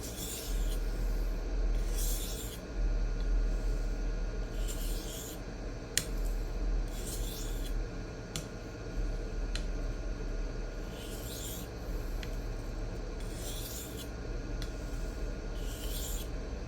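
A Tanto-shaped knife blade is sharpened freehand on a diamond plate, giving a faint, continuous gritty rasp with repeated hissing strokes at a steady rhythm, close and without talk.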